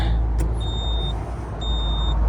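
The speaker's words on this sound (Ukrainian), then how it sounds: "О, щось пищить" Two electronic beeps, each held about half a second, over a loud low engine rumble of an Iseki tractor starting in frost at minus 10, with a short click before the first.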